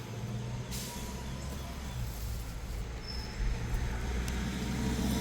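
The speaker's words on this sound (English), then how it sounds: "Got a school bus going by right now." School bus with air brakes passing by outdoors at moderate distance, a steady diesel rumble with a brief air-brake hiss and faint squeal.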